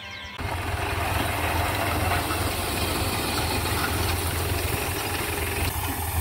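A farm tractor engine runs steadily nearby while rice straw is stacked into piles, a continuous low idling rumble with mechanical vibration, loud and constant throughout, no speech.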